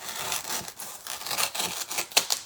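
A steak knife saws through Dollar Tree styrofoam in close, rasping back-and-forth strokes, uneven and scratchy, with a couple of sharper squeaks toward the end and no talking.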